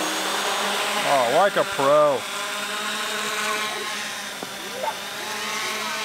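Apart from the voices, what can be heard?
3D printed FPV quadcopter drone flying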